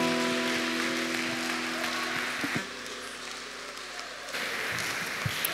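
A church congregation claps steadily at a healing and deliverance service, a dense, continuous wash of applause with sustained keyboard tones ringing beneath it for the first half.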